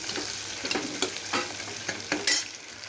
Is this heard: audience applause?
no